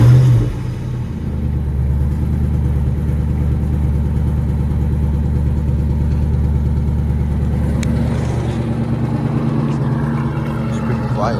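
Ford Mustang GT New Edge V8 with mufflers fitted, idling at close range with a steady low rumble and mild throbbing, fairly quiet and even throughout.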